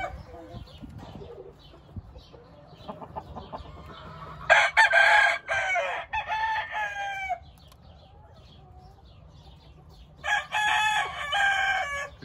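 A pure Cowan gamefowl rooster crows twice, each loud, strained cock-a-doodle-doo lasting a few seconds, with quieter clucks and faint bird sounds between them.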